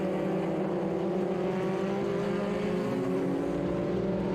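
Sports 2000 race cars run flat out on the track at VIR during an SVRA Sunday race, their engines a steady, continuous roar heard at a distance throughout, without a clear pass-by.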